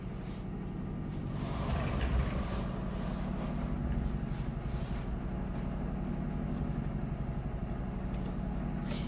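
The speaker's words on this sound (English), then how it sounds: "we're going to sew about 1/4 of an inch down the length of our strip" A sewing machine runs steadily as it stitches a quarter inch down the length of a fabric strip, a continuous close mechanical hum and whir with no talking.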